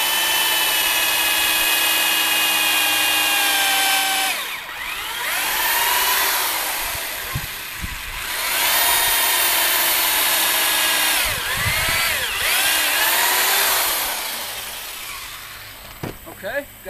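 A power drill drives 3.5 inch exterior deck screws into wood, whining loudly in several long bursts that dip and surge in pitch as each screw seats, with brief pauses between them.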